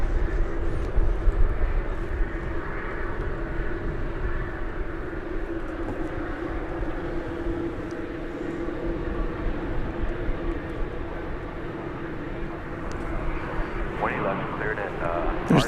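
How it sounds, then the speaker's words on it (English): A Singapore Airlines Boeing 747 taxiing toward the west-side cargo area at DFW Airport rumbles with a low, steady engine drone at some distance, with a person speaking over it. "There's the tail of that Singapore Airlines 747 going back into the cargo area here on the west side"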